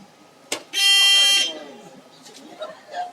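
A loud electronic quiz-game buzzer sounds once for about three-quarters of a second, steady and harsh, followed by faint room noise and murmuring.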